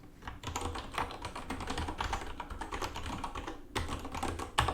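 Fingers type steadily on a computer keyboard while a Dockerfile is being written, a dense run of close, crisp key clicks with a brief pause near the end.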